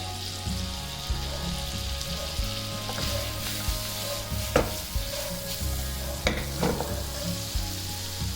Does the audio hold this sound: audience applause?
no